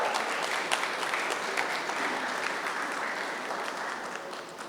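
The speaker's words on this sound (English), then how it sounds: "Can we get another round of applause for our finalists" Audience applause at an educational awards event at a state capitol, steady broadband clapping sustained throughout and tapering slightly toward the end, with no voices over it.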